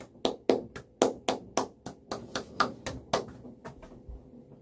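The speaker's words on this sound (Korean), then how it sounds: "맞추신 분들께 진짜 박수" A small group claps in quick, fairly even beats, close and dry. The clapping gradually fades and trails off near the end.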